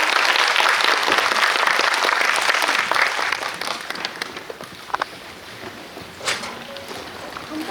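Audience applause fills the hall at the close of a Korean film screening's guest talk, a dense, steady clapping that gradually thins and softens toward the end, with a few scattered claps standing out.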